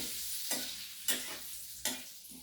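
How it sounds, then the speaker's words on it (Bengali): Whole cardamom, cinnamon sticks and cloves, with a dried chilli and cumin seeds, fry in hot oil for a masala chicken base: a steady soft sizzle with three sharp scraping stirs spaced evenly, no voices. "1 মিনিট মতন এগুলো ভেজে নেব, যাতে গন্ধটা খুব সুন্দর বেরোয়।"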